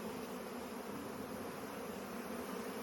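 A beehive covered by a clinging bee swarm gives off a dense, continuous buzzing hum. The sound is steady and moderately close, and nobody talks over it.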